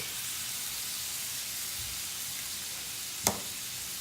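Shrimp and steak sautéing in lemon butter with rosemary give a steady, broad sizzling hiss throughout, with one sharp click near the end.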